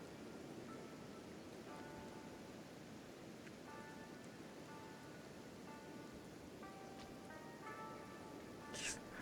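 Rain in the video game Kenshi hisses as a steady, faint wash of noise. Soft tonal chimes and game sounds rise above it, and a brief brighter burst comes near the end.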